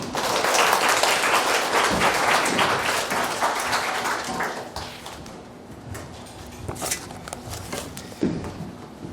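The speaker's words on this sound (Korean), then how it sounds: "목사님 나오실 때 우리 환영의 인사 박수하겠습니다." A church congregation applauds to welcome the pastor, a dense, sustained wash of clapping that slowly thins toward the end, with light room noise beneath.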